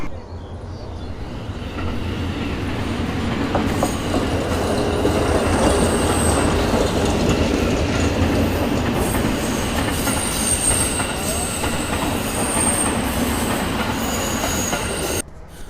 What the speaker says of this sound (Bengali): রেলের জন্য অপেক্ষা করা যাক,